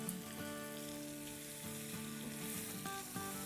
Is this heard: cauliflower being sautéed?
yes